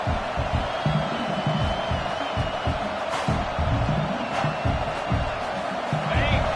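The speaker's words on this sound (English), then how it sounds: "Man, this crowd really affecting the football game." Home crowd at a football game roaring loudly on second and goal, a sustained dense wall of cheering with scattered shouts, heard under a commentator's talk.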